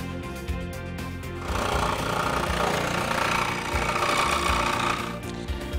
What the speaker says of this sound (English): Now that we're done with that, it's off to the jigsaw.